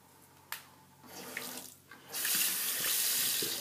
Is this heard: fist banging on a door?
no